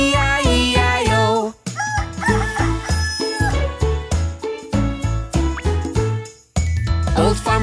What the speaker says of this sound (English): And on his farm he had a rooster, E-I-E-I-O.